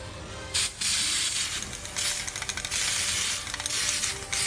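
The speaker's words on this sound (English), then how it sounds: "We're gonna spray a little more." Several bursts of red glitter aerosol spray paint hiss out onto a plate in quick succession, some short and some longer, close by and fairly loud with brief pauses between them.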